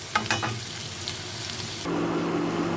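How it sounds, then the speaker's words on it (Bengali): Steady sizzling of soybean chunks frying in oil, with a few stirring scrapes early on and the sizzle growing louder and fuller near the end. "এই সয়াবিনগুলোকে আমি একটু ভেজে নেবো খুব হালকা করে ভাজবো"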